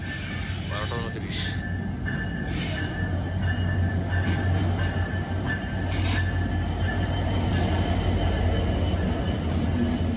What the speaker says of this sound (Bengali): রাত বারোটা তেইশ মিনিটের ট্রেন এসে পৌঁছালো রাত বারোটা আটাশ মিনিটেই আবার সঠিক সময়ে যাত্রা শুরু করলো গন্তব্যে